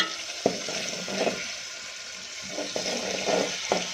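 Spice paste sizzles steadily in oil for a valor and brinjal curry, with a few sharp scraping strokes of a spoon stirring the pan at intervals over a constant frying hiss.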